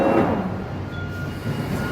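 London Underground Northern Line train near Hampstead on the deep old Charing Cross, Euston & Hampstead Railway, rumbling steadily through the tunnel with a low roar and a faint high wheel whine, loud and close, no voices.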